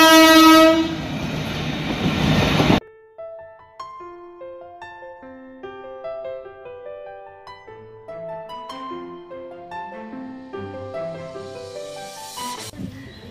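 An AC local train on the Sealdah–Ranaghat line roars past loudly at first, then long sustained horn blasts sound in shifting tones over the steady rumble of the moving train.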